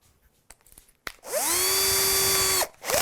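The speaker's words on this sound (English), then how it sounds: "So, just going to drill those holes now." A power drill bores neck mounting holes through a Trev Wilkinson kit guitar body: after a few clicks, the motor spins up to a steady, close, high whine for just over a second, then cuts off and restarts.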